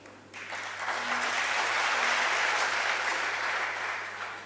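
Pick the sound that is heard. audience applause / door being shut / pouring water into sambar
audience applause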